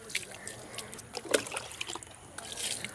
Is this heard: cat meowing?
no